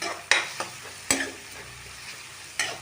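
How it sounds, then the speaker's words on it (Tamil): Capsicum fries in a pan for a homemade chicken pizza, a low steady sizzle interrupted by a few sharp metallic knocks and scrapes of a stirring spoon, with no voices. "இப்போ இந்த கேப்சிகம் இதெல்லாம் நல்லா ஃப்ரை ஆகட்டுங்க."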